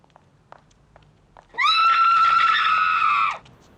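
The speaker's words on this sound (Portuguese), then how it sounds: "um grito assustador quebra o silêncio e revela a descoberta do corpo" A woman's terrifying scream from Alfred Hitchcock's 1972 film Frenzy rises suddenly out of near silence and holds for about two seconds, loud and piercing, after a few faint clicks.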